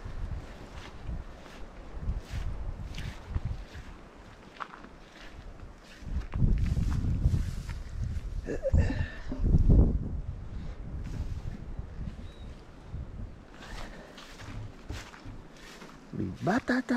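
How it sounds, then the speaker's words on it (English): Gusty wind buffets the microphone at a New Zealand rally stage in Whangarei, surging in loud rumbling blasts and easing off, with people talking nearby throughout. "Nice morning for it, apart from the wind"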